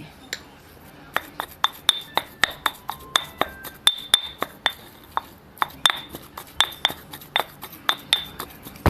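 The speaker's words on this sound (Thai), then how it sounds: "โขกให้เข้ากันนะคะ กะปิหนึ่งช้อนเลย" Shrimp paste and curry paste being pounded together in a mortar for a southern Thai pork bone curry, with sharp, ringing pestle strikes in a steady, even rhythm, close and distinct, repeating throughout.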